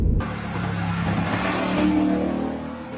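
Ford Mustang GT engine revs up during a drive, a loud throaty rise and sustained roar from inside the car, swelling in the middle and easing off near the end, with no talking.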